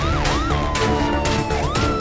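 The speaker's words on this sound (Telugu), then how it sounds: "ఆ జంతువుల అంబులెన్స్ తన జట్టుతో చాలా వేగంగా వచ్చేసింది" A cartoon animal ambulance siren wails in a rising and falling pitch sweep, loud and continuous over background music, with no talking.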